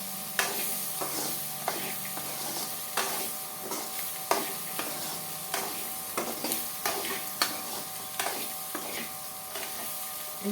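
A black-eyed pea curry base frying in a pan, stirred with regular scraping strokes over a continuous low sizzle, close and even-paced throughout with no voices.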